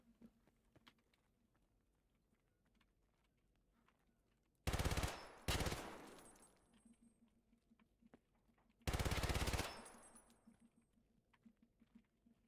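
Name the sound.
PPSh submachine gun firing in video game Escape From Tarkov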